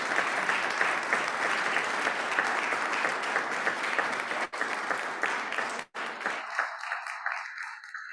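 Audience applause fills a business meeting hall, sustained and fairly steady for several seconds, then thins and fades out near the end as the clapping stops.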